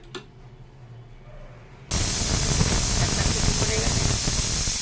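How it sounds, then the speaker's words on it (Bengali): A pressure cooker holding soaked masoor dal with coriander leaves lets out a loud, steady hissing whistle of steam. It starts abruptly partway through after a quieter stretch and keeps going without a break. "একটা সিটি কোনো রকম মারলেই হয়ে যাবে।"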